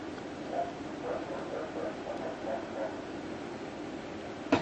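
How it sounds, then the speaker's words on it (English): Dogs barking in the background of an indoor room, a faint, muffled series of repeated barks and yips under a steady hum, distant and low in level throughout. "The trademark barking dogs in the background."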